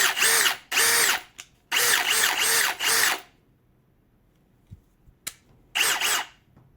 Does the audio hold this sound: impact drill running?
yes